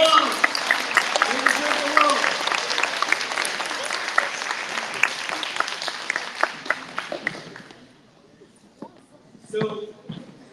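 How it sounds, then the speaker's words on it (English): Audience applause for parents at a school honors night, a dense, loud wash of clapping with some cheering voices that fades out after about eight seconds, followed by a short burst of quieter sound near the end. "Let's give them a big round of applause."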